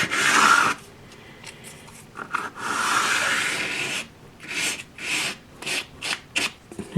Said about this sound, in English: all I need to do now is just give them just a light rub with the old sandpaper